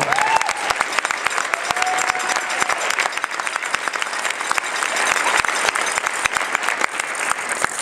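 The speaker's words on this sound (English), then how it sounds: "Give yourselves a round of applause." An audience at a pasta fundraiser dinner applauds after a speech, a dense, steady clapping from a full room that carries on for around eight seconds with no talk over it.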